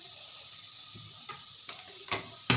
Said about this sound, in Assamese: এতিয়া মই এইখিনি বস্তু ভালদৰে লৰাই থাকিম।